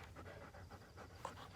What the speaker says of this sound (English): My dogs are right here trying to play.